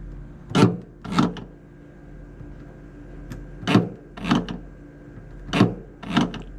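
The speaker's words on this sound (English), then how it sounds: "So you can hear the latch operating" A 2009 Nissan Versa rear hatch latch actuates with its wiring grounded by an alligator clip, making six short mechanical clunks in uneven pairs over a faint hum, close and distinct.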